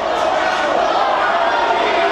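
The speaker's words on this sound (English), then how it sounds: "to hear these fans, your fans, chanting for the Rascals" A wrestling crowd at a Reality of Wrestling vs IMPACT Wrestling show chants for the Rascals as a dense, steady roar of many voices filling the arena.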